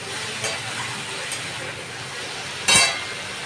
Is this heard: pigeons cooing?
no